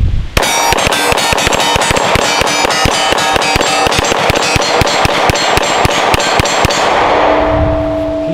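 Rapid string of sharp, loud gunshots from a 9mm Glock 17 pistol fitted in a CAA Micro Roni kit, about thirty evenly spaced cracks with ringing metallic echo, ending in a brief fading tail.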